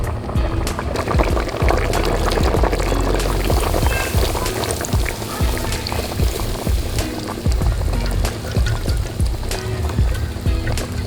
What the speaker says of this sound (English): Last, I put fresh milk.